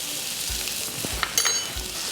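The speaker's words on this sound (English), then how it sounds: "Place the onion and the carrot first in the hot pan and stir fry for about 1 minute." Onion and carrot stir-fry in a hot oiled pan for a single-serving japchae, giving a steady, close sizzling hiss with a few faint stirring clicks and no talking.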